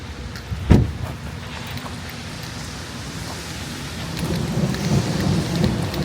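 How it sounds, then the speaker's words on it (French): Steady rain hisses throughout, and a sharp, close thunderclap cracks early on before the downpour grows slightly heavier toward the end. "Et il y a le tonnerre."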